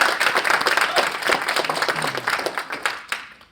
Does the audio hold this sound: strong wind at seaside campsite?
no